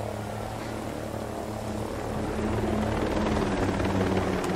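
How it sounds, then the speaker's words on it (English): Enemy helicopter passing overhead in the video game Ghost Recon Breakpoint, a steady rotor thudding and engine drone that grows slightly louder toward the end, continuous with no speech. "Enemy chopper overhead."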